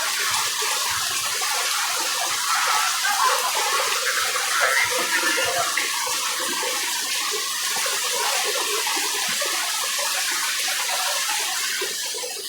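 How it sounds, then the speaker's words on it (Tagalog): Heavy rain pours down on a garage in a dense, steady hiss, loud and continuous with no pauses, and no voices. "Grabe ang ulan."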